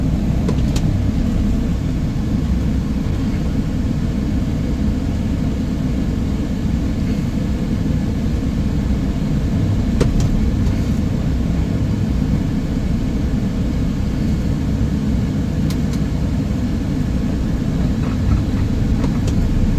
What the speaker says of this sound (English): release the tractor brakes here, and then I'm gonna pull forward